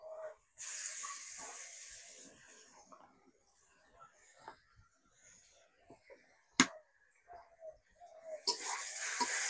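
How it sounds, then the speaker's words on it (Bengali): Garlic paste hits hot oil in a pan with fried onion and bay leaves, giving a soft hissing sizzle in bursts at the start and end, fairly quiet, with quieter clinks and gaps between. "রসুনটা একটু ভাজা নেব"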